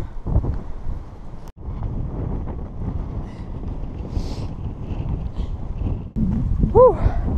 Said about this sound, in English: It's good to be out of some of that wind. That's properly icy.